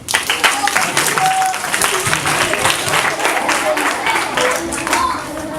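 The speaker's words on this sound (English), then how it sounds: "Give a big clap to Fermi and Max." An audience applauds child performers at a primary school English theatre play, the steady clapping loud and continuous throughout, with a few voices and bits of talk mixed in.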